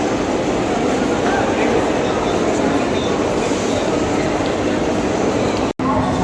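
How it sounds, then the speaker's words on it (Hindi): Busy platform ambience at Howrah railway station, with a steady dense rumble of trains and crowd noise throughout and a brief dropout near the end. "ये हावड़ा स्टेशन है"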